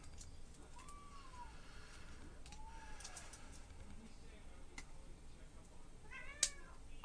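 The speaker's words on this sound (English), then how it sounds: "don't mind my cats. They have party time at this time." Pet cats meow a few times, faint and somewhat distant, in a quiet indoor room, with one sharper yowl near the end.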